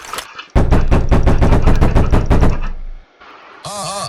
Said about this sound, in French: T'arrêtes de taper.